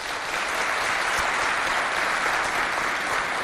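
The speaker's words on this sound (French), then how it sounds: "je vous demande d'applaudir bien fort" Steady, dense applause from a large audience at a high school competition, loud and sustained throughout with no voices standing out.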